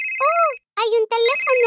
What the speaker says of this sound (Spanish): ¿Suena un teléfono?